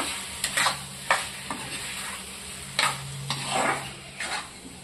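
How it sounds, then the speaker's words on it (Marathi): Large prawns sautéing in oil in a pan, a continuous sizzle broken by several scraping stirs of a spatula, close and moderately loud, no talk. "परतून घेऊ तेलावर."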